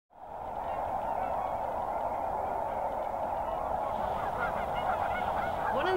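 A dense flock of geese honking continuously at a wildlife refuge in winter, many overlapping calls forming a loud, steady clamor throughout.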